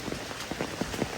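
Rain falling steadily at a rural home where a small native piglet is kept, a soft continuous patter with faint scattered thuds, moderately quiet throughout.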